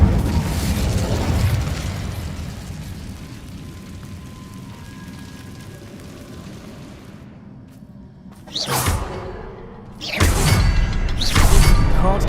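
An Incendio fire spell in Hogwarts Legacy lets out a sudden whooshing blast that flares twice after a stretch of low rumbling ambience, each burst loud and close with a crackling tail.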